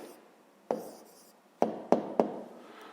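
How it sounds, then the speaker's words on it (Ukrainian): A pen taps and scratches on paper while a math answer is written down, several short sharp strokes close to the microphone in a quiet room. "Ну що ж, записуємо відповідь."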